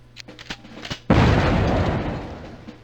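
A grenade goes off in the Army Men video game: a few faint clicks and taps, then a sudden loud, close blast that rolls into a long rumbling decay.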